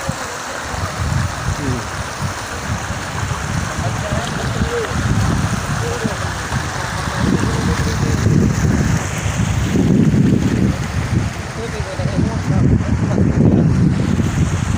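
Water rushing along a channel on the way to the shrine of Hazrat Sahl bin Adi Ansari, a loud continuous churning wash with low rumbling surges and wind buffeting the microphone, close and steady throughout.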